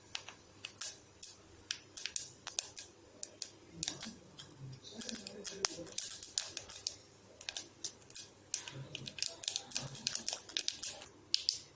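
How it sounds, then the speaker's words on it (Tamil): Mustard seeds splutter in hot oil for a Tamil herbal rasam, a dense, irregular run of sharp pops and crackles close by that keeps going steadily throughout with no talk. "இப்போ கடுகு போட்டுக்கலாம். கடுகு பொரியட்டும்."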